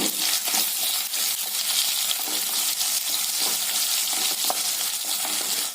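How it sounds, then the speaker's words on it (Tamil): Onions and curry leaves sautéing in hot oil, a steady crackling sizzle with repeated scraping stirs and small metallic clicks, close and clear with no talking. "இதையெல்லாம் சேர்த்து நல்லா இந்த எண்ணெயில் வதக்கி விடுங்க"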